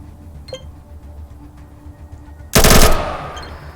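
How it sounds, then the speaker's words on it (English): A short loud burst from an SMG in ATOM RPG, a dense cluster of shots after quiet clicks and a faint tap, then a fading tail with a light metallic clink. "Burst once, and then just a single."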